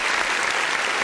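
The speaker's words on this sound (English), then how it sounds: "I'm going to applaud myself." Canned studio-audience applause plays as a sound effect, a steady dense wash of clapping hands at even loudness for about a second, with no voices over it.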